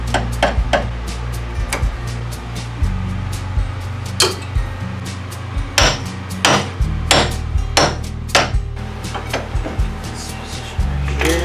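Metal hammer blows ring out while a steering idler arm is removed from a first-generation Toyota 4Runner: loud, close, irregular strikes in uneven bursts over a low steady hum, with no talking.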